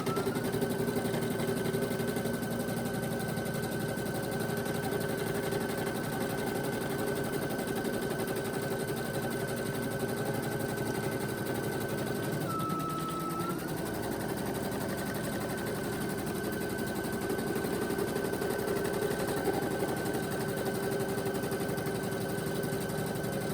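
An NQ1700e embroidery machine stitches a rivet keyfob with a steady, rapid mechanical chatter and a constant whine that dips briefly in pitch partway through, continuous and close with no talking.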